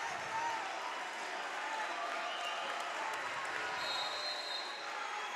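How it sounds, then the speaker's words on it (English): A high school boys basketball crowd in a packed gym roars and cheers steadily from both sides as the teams return to the floor, a dense, continuous wash of distant noise. "crowds from both sides trying to give some encouragement to their team as they both come to the floor for the fourth quarter"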